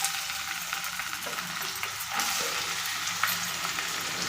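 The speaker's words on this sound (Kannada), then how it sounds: "ಈರುಳ್ಳಿ ಹಾಕ್ಕೊಳ್ತಾ ಇದ್ದೀನಿ." Onions hit hot coconut oil with bay leaf and cumin for cauliflower curry, giving a loud, continuous close sizzle that swells as they are stirred, with no voices.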